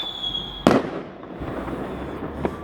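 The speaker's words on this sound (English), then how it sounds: "at the moment you've just got fireworks going off randomly in different places" A single sharp firework bang on Bonfire Night in London, loud and close, followed by a fainter pop amid steady outdoor background hiss.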